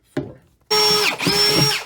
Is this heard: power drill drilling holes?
yes